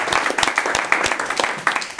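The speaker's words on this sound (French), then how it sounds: "des gens peuvent s'applaudir" An audience at a French talk on the GCC compiler claps after the speaker finishes, a dense burst of many hands with scattered louder individual claps.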